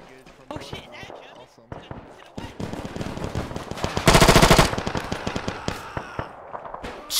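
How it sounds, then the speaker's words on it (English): Rapid machine-gun bursts and scattered gunshots in a military video game set in Belorussia, loud and near, with shouted voices over the firing. "We're taking fire from the west!"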